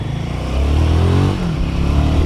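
A Royal Enfield Himalayan 450 motorcycle rides through city traffic, its engine a loud, close, steady drone that swells slightly midway.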